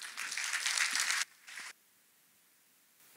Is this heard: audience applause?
yes